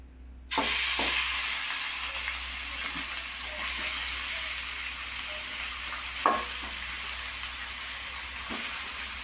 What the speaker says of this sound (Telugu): ఇప్పుడు నూనె వేడైంది చూడాలి వేస్తాను